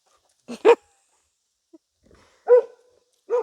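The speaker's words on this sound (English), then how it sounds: "One of the reasons she barks is to deter predators." A livestock guardian dog barks in short, loud bursts close by, a quick pair of barks, then a pause and two more single barks against quiet surroundings.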